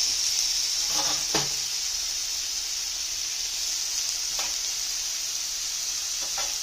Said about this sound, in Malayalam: തേങ്ങയും കൂടി ചിരണ്ടിയിട്ട് ഒന്ന് വഴന്ന് വരട്ടെ, ഒന്ന് നന്നായി ഫ്രൈ ചെയ്ത് അതൊന്ന് വെന്ത് വരട്ടെ